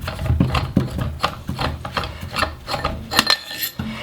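The barrel is unscrewed and pulled from a Scarab Arms TGR2 Mark 2 paintball marker, producing close, quiet metallic clicks, rubs and light scraping handling noises in an irregular sequence with no talking.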